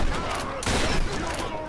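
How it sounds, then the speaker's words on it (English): Gunfire in the Tomb Raider video game, a dense burst of game shots with a loud blast partway through, up close, with a voice talking over the action. "Bust up the shotgun"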